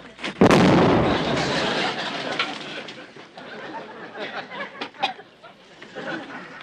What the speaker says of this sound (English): I just pulled a pin in this grenade